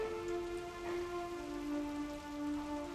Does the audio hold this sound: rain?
yes